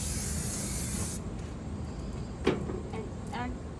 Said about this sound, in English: First, spray the tray with coconut oil